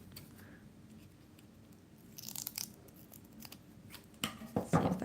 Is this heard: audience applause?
no